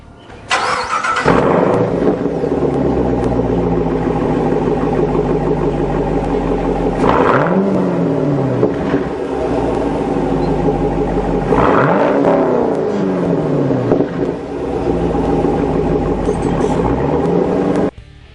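A 2011 Chevrolet Camaro convertible engine revs hard through two acceleration pulls, exhaust roaring up and easing off between them, loud and close throughout.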